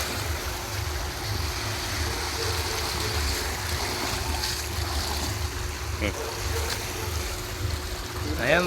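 Gentle waves of a calm sea wash steadily around a small boat during a ride, with a low engine-like rumble and wind underneath and a brief splash near the end.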